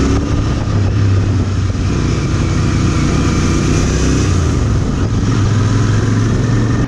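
A Royal Enfield Interceptor 650 accelerating in first gear gives a loud, steady engine drone with a deep rumbling exhaust, rising under constant wind rush and sustained throughout without a break.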